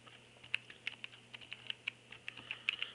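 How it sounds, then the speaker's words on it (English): Faint, quick keystrokes as a website address is typed on a small keyboard for a SmartQ V7 tablet, an irregular run of light clicks over a low steady hum, no voices. "I will type some another"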